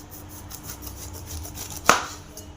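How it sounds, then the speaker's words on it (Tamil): A knife slices raw jackfruit into rounds, a soft scraping cut ending in one sharp, close chop against the board, heard alone without speech. "இதே போல் ரவுண்டாக கட் பண்ணுறேங்க"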